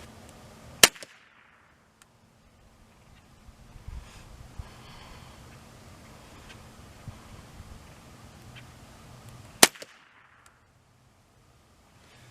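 Two sharp, loud gunshots from a Browning A .22 rifle at a 35-yard target, spaced about nine seconds apart, with quiet outdoor ambience and faint shuffling between them.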